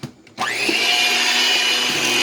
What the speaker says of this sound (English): make sure if you've got a handheld mixer that you get right down to the very bottom